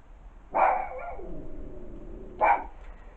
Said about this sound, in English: Dog's kicking off as usual.